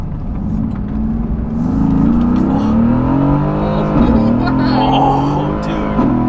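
Mercedes-AMG car accelerating hard at high speed, a loud sustained engine note rising in pitch across several seconds, close by, with people talking over it.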